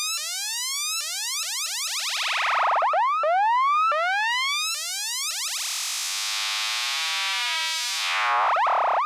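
A Radical Frequencies DPVCO synth voice run through an Intellijel Planar filter, making loud, repeated swooping tones that bend up and down in pitch, rubbery and boing-like, with a steadier wobbling stretch near the end, no talking.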